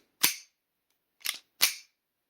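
Three sharp metallic clacks of a custom STARS pistol slide slamming shut, close and crisp, the first alone and the last two closer together, with quiet gaps and no voices.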